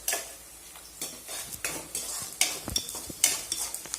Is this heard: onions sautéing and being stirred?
yes